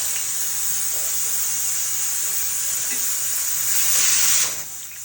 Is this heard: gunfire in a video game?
no